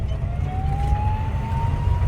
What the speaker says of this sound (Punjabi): ਉਹ ਪਿੱਛੇ ਪੁਲਿਸ ਦੀ ਗੱਡੀ ਆਂਦੀ ਏ